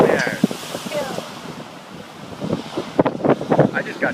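Storm surge waves crash on the Scituate coast during a March storm, with gusting wind buffeting the microphone and bursts of surf and backwash; people talk excitedly over the loud rushing water.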